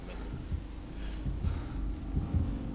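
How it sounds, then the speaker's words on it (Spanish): A heartbeat from the video game Resident Evil 0 thumps faintly in a steady, slow, muffled double rhythm beneath a low ambient hum. "no paro de escuchar unos latido"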